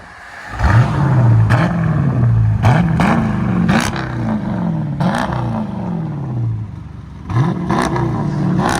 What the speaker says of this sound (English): Jeep Grand Cherokee 4x4 with a beautiful beast of a HEMI.